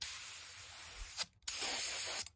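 A spray gun sprays finish in two loud, steady hissing bursts, with a short silent pause between them and a quick sputter as each burst ends.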